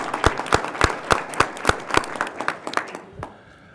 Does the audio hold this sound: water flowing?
no